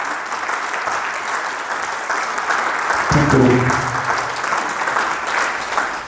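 Loud sustained clapping from an audience filling a hall at a training session, a continuous wash of applause that swells midway while a voice speaks briefly over it.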